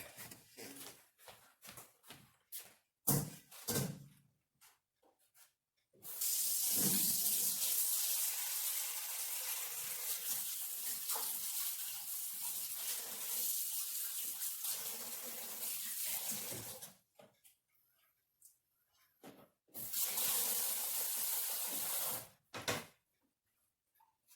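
Tap water running into a kitchen sink during kimchi making, a long steady gush lasting about ten seconds and a later shorter burst, separated by clinks and handling noises of jars and utensils, close and fairly loud.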